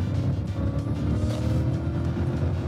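A 2000 BMW 540i accelerates onto a highway, its engine and road noise forming a loud, steady interior rumble with a continuous wash of tire and wind sound.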